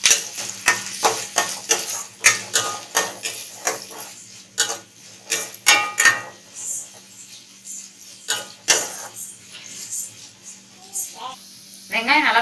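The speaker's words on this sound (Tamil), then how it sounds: "வெங்காயம் கொஞ்சம் நல்லா வதங்கட்டும்." Onions and green chillies sauté in a pan for a dried fish kuzhambu, with a soft sizzle under a fast run of close spatula scrapes and clacks that thin out toward the end.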